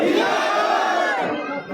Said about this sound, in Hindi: जोरदार तालियों के साथ लोकप्रिय नेता श्रीमान संजीव जी बेनीवाल